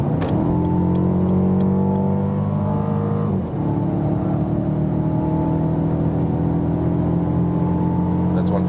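A Mercedes CLA 250 4Matic accelerates hard on the Autobahn, its engine drone climbing steadily in pitch, dropping briefly at a gear change, then rising again under constant road and wind roar heard from inside the cabin.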